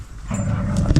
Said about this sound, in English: Look, the dogs are wrestling now.